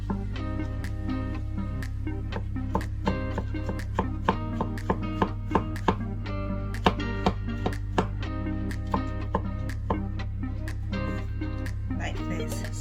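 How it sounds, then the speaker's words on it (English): Knife chopping cleaned mushrooms into tiny cubes on a cutting board, a steady run of quick, crisp taps under a continuous low hum. "So you're going to cut them into tiny little cubes"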